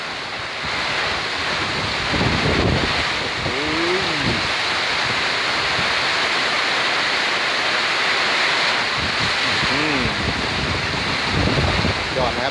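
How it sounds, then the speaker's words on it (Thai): Strong wind roars steadily against the microphone during rain, buffeting throughout, with faint voices surfacing briefly in the gusty rush. "ลมแรงมากเลยครับ"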